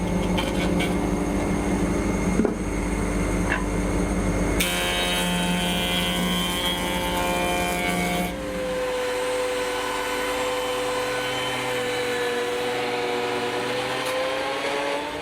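Electric planer or thickness planer flattening hardwood timber for an end grain cutting board, a loud continuous machine whine and roar that shifts pitch as passes change, steady with no talk.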